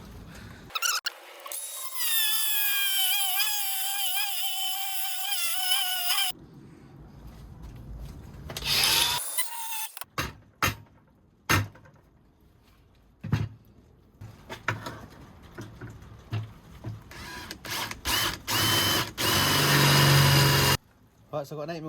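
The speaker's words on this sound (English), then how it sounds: "Set up, cut it out with a grinder." Angle grinder cutting out a metal gear linkage plate for a Suzuki Hayabusa engine swap into a Ford Anglia 105E, a loud sustained whining cut of several seconds followed by sharp knocks and clattering bursts.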